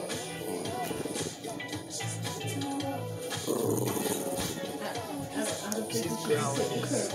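A dog growls amid a busy, noisy room, the low rumbling snarl continuing across several seconds under game sounds and people talking nearby.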